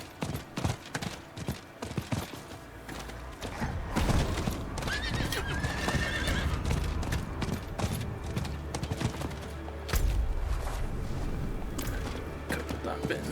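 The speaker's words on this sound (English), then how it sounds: "Let's have a quick scout about on horseback" Horseback riding in the game Diablo 4, with a horse whinnying clearly over steady clip-clop hoofbeats and busy in-game ambience, loud and continuous throughout.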